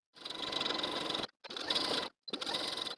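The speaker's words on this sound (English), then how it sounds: "Now sew all the way around your hem close to this inner edge." Close and fairly loud, a sewing machine stitches around a jumpsuit hem in three short bursts of whirring, with brief silent pauses between them.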